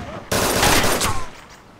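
A sudden loud burst of gunfire in the video game DayZ, a rapid volley that cuts in sharply and fades into a short echoing tail.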